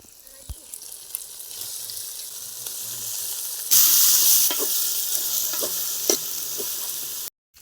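Chopped chicken stuffing for puffs fries in a pan with turmeric and chilli powder, giving a steady close sizzle that grows louder midway, broken by scraping stirs and clinks of the spoon.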